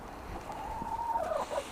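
A single faint, drawn-out hen call rises from low background noise.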